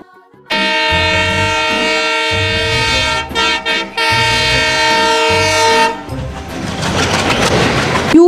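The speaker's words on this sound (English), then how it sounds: "T for train." A train horn blares in long sustained chords, pausing briefly a few times, then gives way to rumbling rail noise as the train passes close by.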